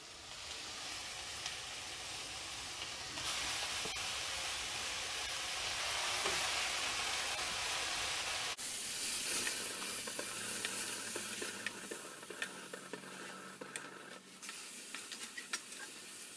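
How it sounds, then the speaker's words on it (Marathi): Fresh fenugreek leaves hitting a hot pan, a loud steady hiss and sizzle that shifts in tone partway through, with scattered stirring scrapes and a faint low hum. "आता आपण ही मेथी टाकूया"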